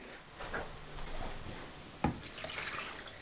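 Water pours into a container for making mushroom spawn at home, arriving in uneven splashing bursts with a sharp knock partway through.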